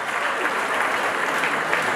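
Wedding guests applaud loudly and steadily, a dense wash of clapping hands at an Armenian celebration that holds at full strength without a break.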